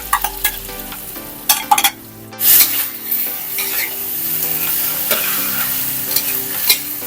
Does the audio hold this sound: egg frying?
yes